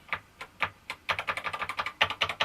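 Keys clack on a Panasonic MSX home computer's full-travel quality keyboard, a few spaced presses first, then a quick burst of crisp, close, distinct keystrokes in an uneven rhythm.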